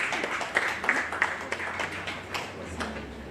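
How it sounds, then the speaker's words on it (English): Scattered applause from a small audience at an electoral commission media training session: fairly faint clapping with a few distinct sharp claps, thinning out over a few seconds. "Please, a round of applause for Mr."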